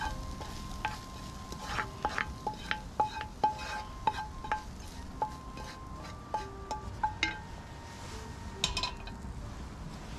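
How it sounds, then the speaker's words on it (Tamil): A spoon stirs tempered ingredients and soaked chana dal into spicy kuzhi paniyaram batter, with soft scraping and repeated light clinks against the bowl over a quiet background. "அதுக்கப்புறம் நம்ம தாளித்து வச்சுருக்க ஐட்டத்தை இதில் மிக்ஸ் பண்ணிடணும்."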